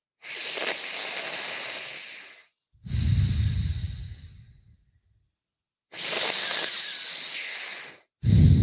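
Deep, fast breaths during a breathwork exercise for mountain athletes, heard as loud, close, hissing inhales and exhales in long strokes with short pauses between them.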